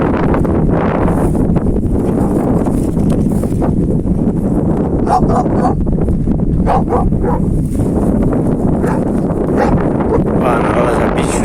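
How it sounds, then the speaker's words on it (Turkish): Dogs bark repeatedly at a distance over steady wind rumble, with people talking nearby throughout. "köpekler var."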